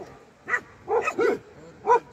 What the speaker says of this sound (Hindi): एक डॉगी इस तरफ को भौंकने लगा हुआ है।